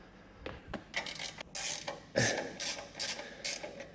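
A hand ratchet clicks in quick bursts while the rear split wishbones are taken off a car, its pawl ratcheting loudly and close with short pauses between strokes.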